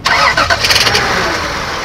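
A 1982 Toyota Soarer 2.8 GT with the 5M-GEU engine cranks briefly, catches and starts, then settles into a steady, smooth idle, loud and close.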